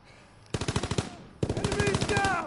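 Loud, close automatic gunfire in a World War II video game: one rapid burst of evenly spaced shots, a brief pause, then a longer sustained burst with a voice calling out over its end.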